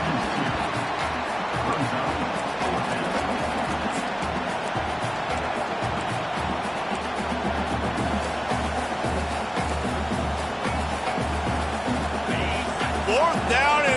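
Dense, steady roar of a football stadium crowd on a fourth-down play, loud and continuous throughout with a broadcast announcer's voice running over it.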